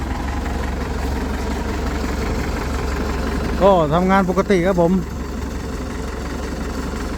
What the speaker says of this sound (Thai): เครื่องยนต์